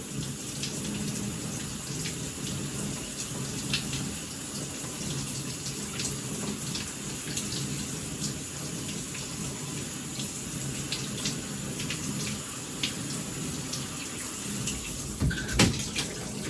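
Shower water runs steadily, a constant close hiss of spray with faint droplet taps throughout; no talking.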